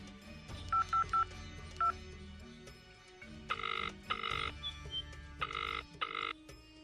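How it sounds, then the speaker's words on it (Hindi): A telephone keypad is dialed in a Hindi radio drama: a quick run of electronic tone beeps, a pause, one more beep, then longer repeated tone bursts as the line rings, with a low hum underneath. "उनको फोन लगाते हैं।"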